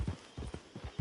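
Horse hooves clip-clopping in Red Dead Online, five or six soft, evenly spaced thuds at a walking pace, close by, with the last step landing heavier.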